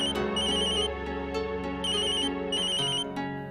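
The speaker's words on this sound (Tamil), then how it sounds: "சுனில் ஃபோன் பண்றான்." A mobile phone ringtone plays a repeating electronic melody with bright chiming notes over a fuller musical backing, steady and moderately quiet, with no talking.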